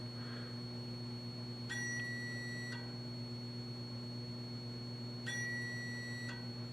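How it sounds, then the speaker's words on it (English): A high-pitched electronic whine from a Hewlett Packard 5061A cesium beam frequency standard pulses on and off twice, each burst about a second long, over a constant low hum. "if you can hear the high frequency pitch coming from the unit"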